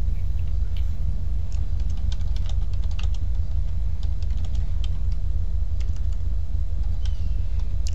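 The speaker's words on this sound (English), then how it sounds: "Don't make fun of my typing." Rapid clattering keystrokes on a computer keyboard, an uneven run of clicks under a steady low hum throughout, with no talking.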